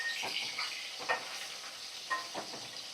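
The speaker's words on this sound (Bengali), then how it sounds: "একদম হাই ফ্লেমে রেখে এখন মাছগুলোকে আমি ভাজা করছি।" Four pieces of fish fry in a wok over a high flame, a steady close sizzle with a few brief louder crackles and stirring scrapes. No one speaks.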